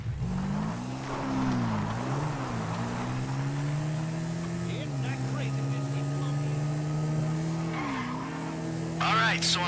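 A car drives in GTA 5, its engine drone shifting pitch steadily throughout, with tires skidding and squealing briefly near the end; engine and skids stay loud and close.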